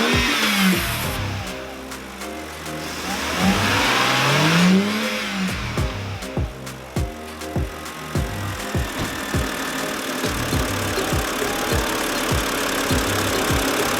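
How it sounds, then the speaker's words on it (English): A BMW E90 engine fitted with a cold air intake revs up repeatedly in short bursts, rising and falling in pitch, then settles into a rough idle with a deep induction roar. "so there you go, a couple revs to do intake"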